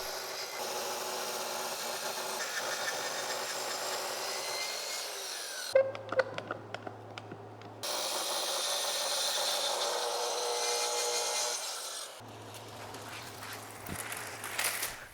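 A track saw cuts wood for a table with a sustained loud whining roar, broken by a short pause with clicks and clamp handling before the cut resumes, then quieter clatter at the end.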